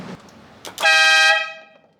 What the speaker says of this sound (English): I think it sounds like a train horn.